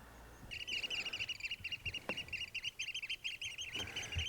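Loud, shrill piping calls from a group of oystercatchers on upland moors in spring, repeated rapidly and continuously, with occasional low knocks from nearby.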